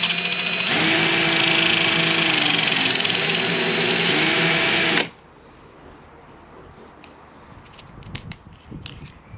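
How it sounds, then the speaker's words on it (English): A power drill whirs loudly for about five seconds while a wooden drill bit turns in a sharpener, pitch dipping slightly under load, then cuts off abruptly, leaving faint ticks and handling clicks. "Let's try the wooden drill bit."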